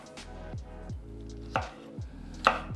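Garlic cloves roughly chopped with a knife on a cutting board, about six distinct close thunks at a steady rhythm, with no voices.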